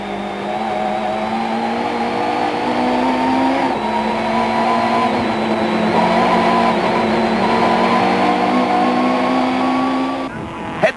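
Touring cars from the 1994 South African championship race at East London as the leader takes the last corner before the flag. Engines drone loud and close with a slight pitch drop, then cut off sharply near the end.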